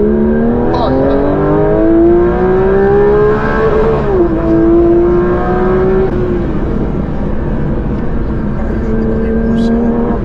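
A car accelerating as it is driven, its engine note climbing steadily through the gears with a loud, close rising whine and a brief shift dip; a voice talks over parts of it.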